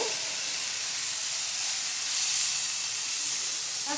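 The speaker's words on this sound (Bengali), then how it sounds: "আমি ভালো করে পেঁয়াজটা কষিয়ে নেব" Paste of boiled onion fries in oil in a pan while a fish curry is cooked, producing a steady, close, bright sizzle and hiss that stays even throughout, with no talking.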